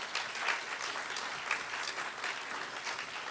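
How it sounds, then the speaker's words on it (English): Steady applause from a church audience greeting the Cosmic Orchestra, a dense, even wash of many hands clapping throughout with no talk over it. "Let's give a round of applause for the Cosmic Orchestra."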